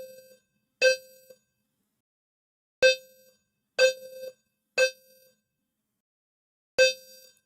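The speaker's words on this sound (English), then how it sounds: "Bro, I can't tell if there's a fire or it's just a false alarm." A building fire alarm blares in short, loud, buzzy horn blasts at irregular intervals of one to two seconds, with silence between them.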